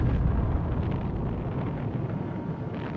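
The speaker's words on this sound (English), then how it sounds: "The bomb was detonated," A British nuclear bomb test detonation, heard as a continuous deep, heavy rumbling roar that fills the space loudly and steadily throughout, with no voices present.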